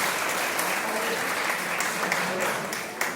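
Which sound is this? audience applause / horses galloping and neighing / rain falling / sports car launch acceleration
audience applause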